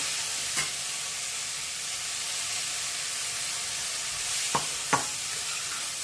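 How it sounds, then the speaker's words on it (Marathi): Radish greens sautéing in a pan, a steady hissing sizzle throughout with a few faint scraping stirs, close and even, no talking. "आता तो छान असं परतवून घ्यायचा आहे"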